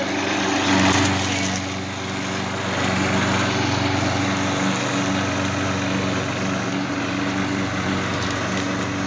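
A gas lawn mower belonging to Matt runs steadily nearby, its small engine droning with a constant low hum and slight swells in loudness, with no talk over it.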